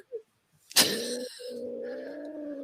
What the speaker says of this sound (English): that's not a happy cat